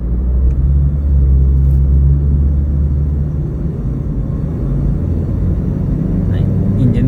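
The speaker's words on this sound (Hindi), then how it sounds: "इंजन की आवाज़ नहीं आनी चाहिए, इतनी रेस नहीं दबानी" A car engine on a driving lesson hums with a loud, steady low rumble close by, the accelerator held so the motor drones evenly throughout.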